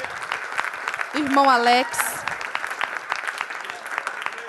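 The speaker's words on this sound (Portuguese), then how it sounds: "Vamos dar um aplauso" Clapping from a church congregation on a Sunday runs under someone speaking; the applause is steady but partly masked by the voice.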